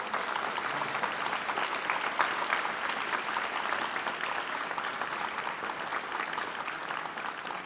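Students in a concert audience at a school honor bands event applaud their parents, a broad steady round of clapping from a large crowd, moderately distant and sustained throughout.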